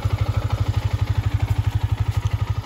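A motorcycle engine idles with a rapid, regular thumping pulse after the bike was dropped in water near Kaigal falls, running close and steady with no voices.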